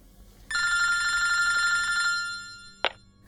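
A telephone bell rings in one sustained, trilling burst of about one and a half seconds, then fades. A single sharp click follows shortly after, with no talk over it.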